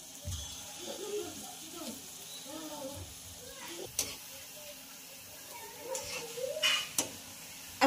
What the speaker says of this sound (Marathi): असं मध्यम गॅसवर छानपैकी आपल्याला असं फ्राय करून घ्यायचं आहे।